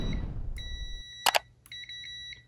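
Multimeter continuity test: two quick, close, high-pitched beeps as the probes touch, followed by a steady electronic tone.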